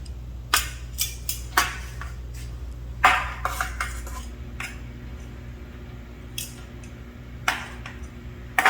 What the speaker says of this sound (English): I'm turning them over so that this top side is gonna get nice and crispy.